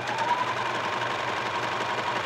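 A serger stitching elastic onto knit fabric runs in one steady, fast mechanical whir, close and continuous, with no voices over it.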